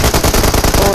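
Rapid machine-gun fire from a shooting video game, a loud, dense burst of shots in quick succession, close and filling the whole moment with no talk over it.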